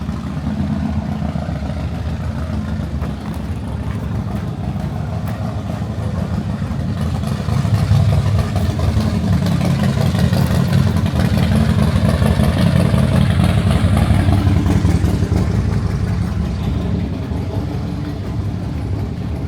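A performance Harley-Davidson motorcycle engine runs loud and close, a steady low rumbling drone that swells slightly partway through before settling back, with no talk over it.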